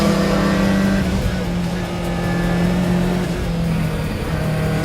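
A Group B rally car drives fast, its engine holding a loud, steady roar with shifting pitch as it pulls hard, close and continuous, with no talking.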